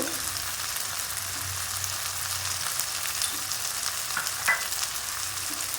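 Turmeric and chilli powder fry in hot oil in a pan while being stirred, producing a steady close sizzle with faint scraping from the stirring throughout.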